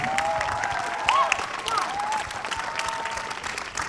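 An audience at the opening of a campus event applauds steadily, with close, dense clapping throughout and a voice calling out over it.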